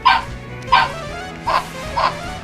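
A dog weapon in a video game barks when attacking, giving four short, sharp barks at a steady spacing, moderately loud over a low game backdrop.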